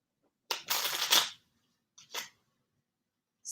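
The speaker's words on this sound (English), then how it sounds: "And we're gonna shuffle the cards." Playing cards shuffled in a riffle, one long rustling burst followed by a shorter flutter a moment later, close and fairly loud with no talking.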